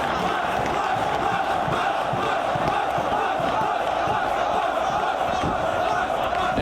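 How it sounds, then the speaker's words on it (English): Wrestling crowd at an independent multi-man match cheering and chanting loudly, a thick, steady roar of many voices filling the arena without a break. "And the crowd going crazy for the Huss man."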